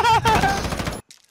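A short burst of rapid gunfire in Call of Duty Modern Warfare, loud and close for about a second before cutting off, followed by a faint trailing sound.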